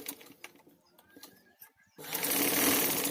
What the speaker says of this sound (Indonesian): Sekarang kita jahit dulu kupnatnya,